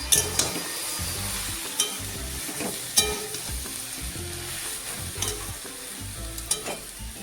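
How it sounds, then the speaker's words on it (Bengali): Soybean chunks frying in a pan and being stirred together with spices for a squash and soybean dish, with steady close sizzling and repeated scraping clinks of a spoon against the pan. "ভালো করে ভাজবো মশলাগুলোর সাথে সোয়াবিনের ভিতরে মশলাটা ভালো করে যেতে হবে"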